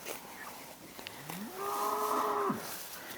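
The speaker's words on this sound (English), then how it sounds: "So these are our other cows." A cow on a farm lets out one long, close, loud moo with a rising then falling tone, over quiet outdoor background.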